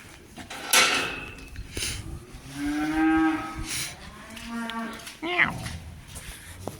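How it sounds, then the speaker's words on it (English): Cows on a farm in rural Ireland moo several times up close, with long drawn-out calls in a row and clanks and bumps of gates or barn fittings between them. "I want to go in and check on the cows now."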